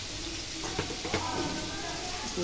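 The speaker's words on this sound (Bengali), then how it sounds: "পেঁয়াজ ভাজতেছি" Onions frying in hot oil in a home kitchen, a soft continuous sizzle with a few faint clinks of stirring, steady and close throughout.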